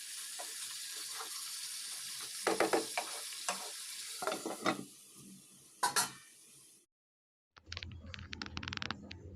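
Potatoes sautéed and stirred in a pan for a Bangladeshi home-cooked birthday meal: a continuous sizzle with repeated scraping strokes of a spoon, close by, followed by a brief silence and a sharper clattering burst.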